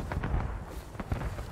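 Musket gunfire in the War of Rights skirmish game on the Harpers Graveyard map: several scattered, muffled shots in quick succession, fairly distant and soft, with no speech.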